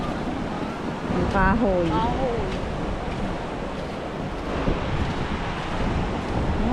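Waves wash onto the shore at San Diego Beach in a steady broad rush mixed with wind buffeting the microphone, while people talk briefly over it.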